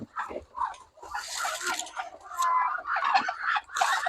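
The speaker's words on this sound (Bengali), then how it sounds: "আমার এদিকে চীনা হাঁস আছে আবার সিল্কি মুরগি আছে" Chinese ducks and silkie chickens on a farm make a close, busy chorus of clucks, gobble-like calls and squawks overlapping in uneven bursts, loud and continuous.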